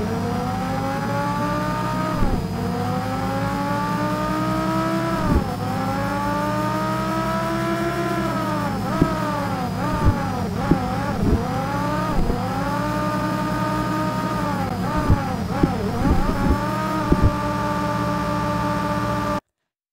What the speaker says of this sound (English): you might have noticed that there were a lot of gear changes